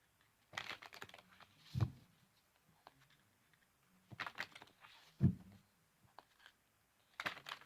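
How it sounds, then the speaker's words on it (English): Soft papery riffles and taps come in a few short bursts separated by quiet pauses, close and faint, like cards being shuffled by hand. "Okay, a couple more shuffles here."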